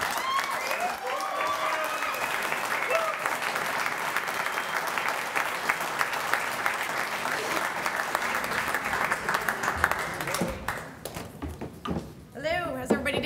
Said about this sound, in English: All right, still applause.